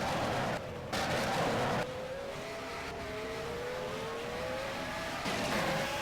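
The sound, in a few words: V6 race car engines in a racing video game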